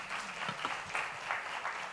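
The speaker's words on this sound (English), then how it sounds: "Let's give a round of applause to our panel." Conference audience applauds a health technology panel at a Dubai event, a continuous moderately faint wash of many hands clapping in a large hall, steady throughout with no speech.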